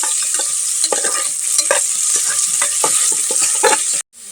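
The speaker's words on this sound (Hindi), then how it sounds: "अब प्याज को थोड़ा सा हम भुनाने देंगे।" Onions sizzle in hot oil with whole spices for a potato pulao while a spoon scrapes and stirs the pan in repeated strokes, close and steady, then the sound cuts off abruptly near the end.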